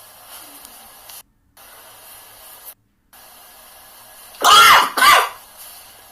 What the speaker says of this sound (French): La toux, etc.